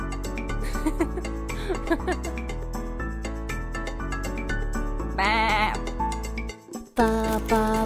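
Bleating sheep cry out over a busy, bouncy musical backing, with a louder, drawn-out bleat near the end.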